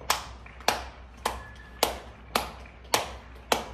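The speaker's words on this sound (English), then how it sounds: "Everybody in their balcony is clapping." People on their balconies clap in solidarity, sharp claps repeating at an even rhythm about every half second, fairly distant and echoing between buildings, with no talk.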